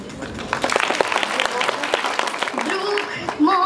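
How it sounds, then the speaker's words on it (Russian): Audience applause at a gala concert of an international talent festival, a bright burst of clapping heard closely for about three seconds before music with singing begins to rise at the end. "Мы тебя поддержим аплодисментами, да, дорогие друзья?"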